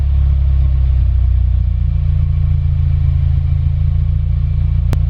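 A 2019 Subaru WRX engine idles after a Cobb intake install, a loud, steady low rumble that settles evenly with a brief sharp click near the end and no talking.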